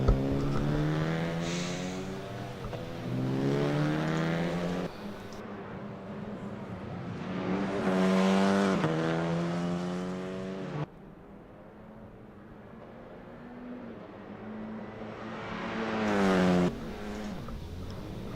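A formula race car engine in Assetto Corsa, driven on an Australian circuit, screams close and loud, climbing in pitch through repeated upshifts and dropping sharply when braking for corners.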